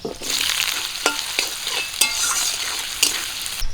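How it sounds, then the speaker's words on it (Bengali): Chopped onions and green chillies fry in hot mustard oil with panch phoron in a kadai, a close, continuous sizzle broken by a few sharp scrapes and knocks of a stirring spoon against the pan, no voices. "কড়াই সরিষার তেল দিয়ে দেবো পাঁচফোড়ন কেটে রাখা পেঁয়াজ আর কাঁচা লঙ্কা দিয়ে দেবো"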